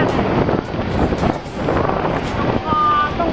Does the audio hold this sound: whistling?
no